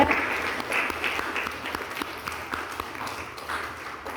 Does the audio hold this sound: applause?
yes